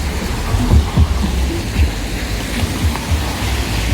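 Heavy, roaring wash of storm rain and wind noise near the coast at Balneário Camboriú, loud and broadband, with low rumbling surges rising and falling throughout.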